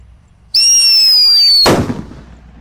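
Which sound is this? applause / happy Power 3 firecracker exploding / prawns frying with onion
happy Power 3 firecracker exploding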